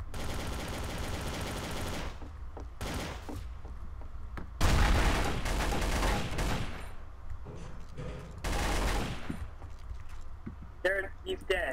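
Garry's Mod Trouble in Terrorist Town gunfire: loud bursts of rapid shots and booming reports come in uneven clusters with gaps between them, mixed with game sounds.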